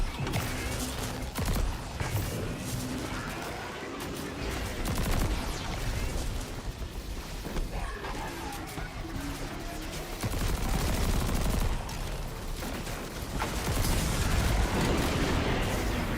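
Sustained gunfire in the Destiny video game, rapid shots and bursts overlapping with booming impacts, loud and continuous throughout with no pause.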